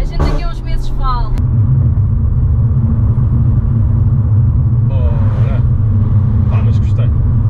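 A Peugeot 308 GTi 272HP engine drones and pulls under acceleration as a steady low rumble throughout, with someone speaking briefly near the start and again later over it.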